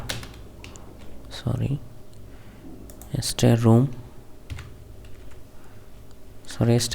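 Computer keys tap out a room label on a house floor plan in a steady run of light clicks, close up, while someone talks intermittently over the typing.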